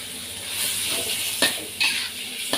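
Sliced pork belly stir-fried with ginger in a hot pan over a raised flame gives a steady sizzling hiss, broken by a few sharp clinks and scrapes of a spatula against the pan.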